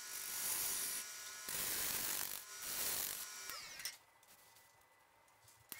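A wood lathe turns a honey locust burl bowl, the gouge cutting in loud, hissing bursts of scraping broken by short pauses, then dropping to a quieter spinning hum near the end.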